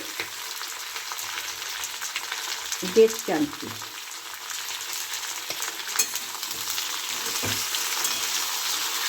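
Beans and vegetables frying in a pan with salt for a Bengali spinach mixed-vegetable dish, giving a steady hiss of sizzling throughout, with a few stirring knocks and a brief spoken remark.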